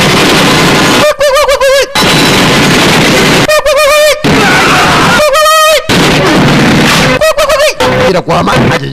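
Gunfire in a dubbed action film, booming bursts and pops crowding a loud, dense soundtrack, while a narrator's voice talks over the action in several stretches.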